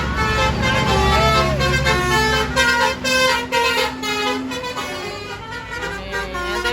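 A bus's musical basuri horn plays a wavering melodic tune at a toll gate, loud and close over rumbling engine and road traffic noise, lasting several seconds with the notes shifting in pitch.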